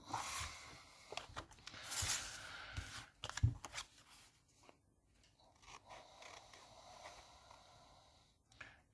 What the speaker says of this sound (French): quand on découpe avec des ciseaux, c'est le papier qui tourne